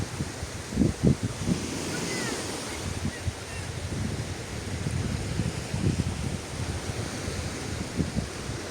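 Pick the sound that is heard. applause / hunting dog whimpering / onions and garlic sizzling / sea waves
sea waves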